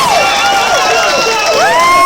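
A grad night hypnotism show audience cheers loudly, with high excited voices whooping and shouting over scattered applause, close and continuous.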